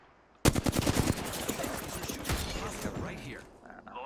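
Gunfire in the video game Apex Legends: a sudden loud burst of rapid automatic shots, then continued scattered firing that fades toward the end.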